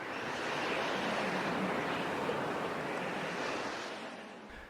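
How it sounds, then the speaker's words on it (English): Wind blows across a Rode VideoMic Me mounted on a phone, producing a loud, continuous rushing rumble that swells and fades slightly, with no speech. "If I get a chance, I'll do a quick wind test."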